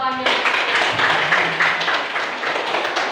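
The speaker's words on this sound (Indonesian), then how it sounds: "Tepuk tangan." Clapping hands in a classroom, a short burst of quick, fairly loud claps from a group of students that continues steadily through the moment.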